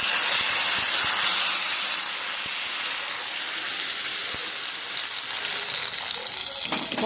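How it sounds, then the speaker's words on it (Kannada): Hot tempering poured into simmering ridge gourd sambar gives a loud, steady hiss and sizzle that holds for several seconds and slowly eases, with faint clicks and no talking. "ಅದಕ್ಕೆ ಒಗ್ಗರಣೆ ಕೊಡುವ."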